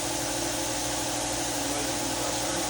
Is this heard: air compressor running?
yes